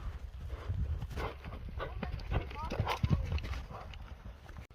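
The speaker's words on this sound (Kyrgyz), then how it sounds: "Мына жылоосун көрүңүздөр аттын." A horse runs in Nookat, its hooves beating an uneven, rapid clip-clop that comes close and loud, with people's voices mixed in.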